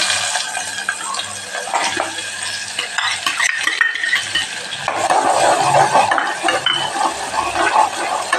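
Chopped green onions and asafoetida sizzle in hot oil while being stirred, a steady frying hiss with scraping of a spoon against the pan, up close and without talk.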